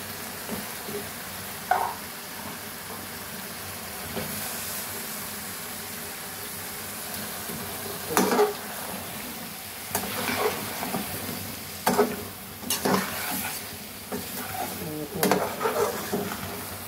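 Tomatoes stirred into a frying vegetable curry in a pan, giving a steady low sizzle with repeated scraping stirs and utensil clatters standing out at intervals.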